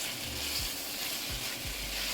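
A vegetable medley sizzles steadily in a pan at moderate heat for cheesesteak filling, a soft, even hiss with a few low knocks from stirring, quiet and with no talk.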